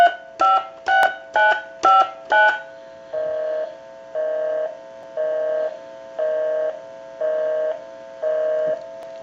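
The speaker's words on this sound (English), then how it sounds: "Give you some dial tone and we'll call that number." A converted European telephone gives a rapid series of six sharp dialing tones, then a slower repeating pattern of steady beeps with short gaps, clear and close.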